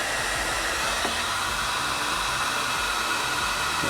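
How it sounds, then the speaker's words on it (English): A heat gun blows steadily on heat shrink tubing, a loud, continuous airy roar that holds at one level throughout with no talking. "The other heat shrink goes over here. You grab your trusty heat gun."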